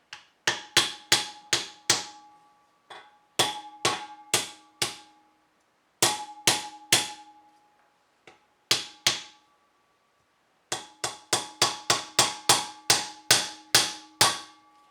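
Sharp metallic taps from a small hammer in quick bursts of three to six strikes, with short pauses between groups, fitting a solid spacer in a Ford 8.8 rear axle; close and fairly loud, no talking.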